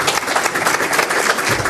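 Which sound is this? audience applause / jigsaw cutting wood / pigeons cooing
audience applause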